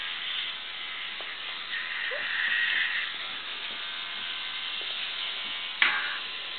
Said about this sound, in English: Yeah, you're brushing your teeth.